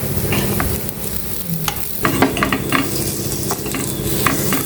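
Sweet pumpkin and jaggery appe sizzling in an appe pan as they are flipped, a close, continuous sizzle broken by scraping and clicking of a utensil against the pan, with no voices.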